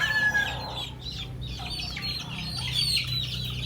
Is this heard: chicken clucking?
yes